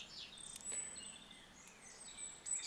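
Faint, high birdsong drifts along a disused railway and canal towpath near Kemble and Cirencester, with scattered chirps and thin whistles over quiet outdoor air.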